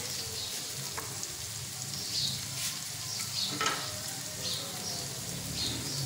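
Minced keema frying with spices, turmeric, black pepper, coriander and crushed red chilli in a hot pan, a steady close sizzle broken by the scrape and clatter of stirring, with no voices.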